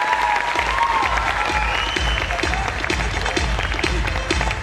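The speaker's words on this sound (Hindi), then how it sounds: "ताली बजाना तो ढंग से बजा दो" Convention audience applauding in a large hall, dense sustained clapping from many hands at steady loudness, with a faint voice briefly audible over it.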